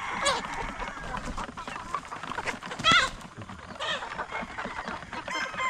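Gamecock chickens cluck and call busily close by, a dense overlapping chorus of fowl sounds that runs throughout with occasional louder squawks.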